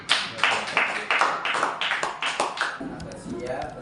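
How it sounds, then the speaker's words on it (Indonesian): Sharp, close hand claps in a classroom, a quick run of strong individual claps that thins out toward the end, with no other sound over them. "Tepuk tangan saya dulu."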